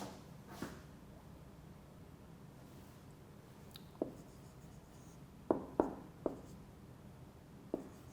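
A lecturer writing by hand during an online lecture, faint scratchy strokes followed by a few sharp taps against a quiet room background, no speech.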